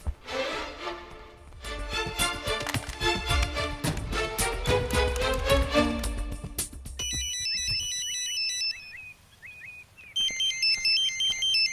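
A phone's electronic ringtone chirps in a repeating melodic pattern after a stretch of lively music, loud and close.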